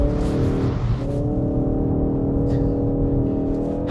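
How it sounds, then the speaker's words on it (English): Ford Focus RS in drift mode, engine running hard with a sustained loud, steady drone throughout and no clear tire squeal standing out. "It's basically a drift button, which means you can do things like this."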